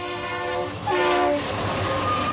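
Union Pacific freight train passing with diesel rumble and rail noise, a sustained horn blast sounding throughout, steady and fairly loud, no voices.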